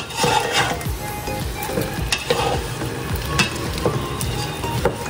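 Meat simmering in a pot while being stirred, a steady bubbling sizzle with intermittent scraping knocks of a spoon, close and continuous with no talk.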